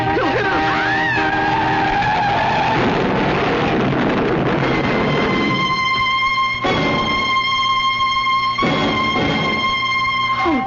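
A truck skids as a radio drama sound effect: a loud, drawn-out tire screech with engine roar that sweeps and fades, followed by sharp squealing bursts and a sustained tonal whine.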